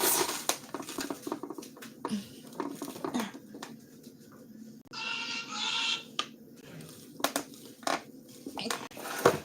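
Knife tapping a cutting board while mincing shallots, quick soft chops that come in irregular clusters, close but fairly quiet, with a brief burst of scraping partway through.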